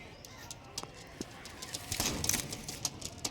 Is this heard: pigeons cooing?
yes